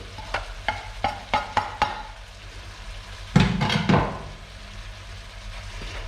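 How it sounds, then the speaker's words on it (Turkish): Onion and garlic fry in a pan under a soft sizzle. A burst of sharp spatula taps against the pan is followed later by a louder scraping stir, with no voices. "Ve bunları güzelce karıştırıyoruz."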